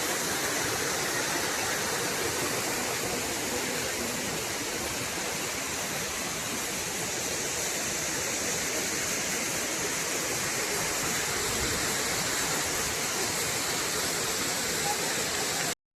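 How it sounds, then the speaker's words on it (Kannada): Stream water flows near Jhari Falls in Chikkamagaluru, a steady, unbroken rush of broadband noise that holds at an even level throughout. "ಇಲ್ಲಿ ಹರಿತಾ ಇದೆಯಲ್ಲ ನೀರು, ಸೊ ಅವೆಲ್ಲ ಇಲ್ಲಿಂದ ಹರಿತೇವೆ ಗೈಸ್."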